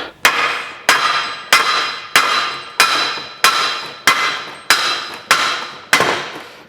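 A big hammer strikes nine times at an even, steady pace during the restoration of a Fowler PA1 engine, each blow a loud, close metallic crack with a short ringing decay.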